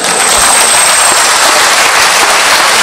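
A large seminar audience bursts into loud, dense applause that fills the whole stretch evenly, with no voices on top.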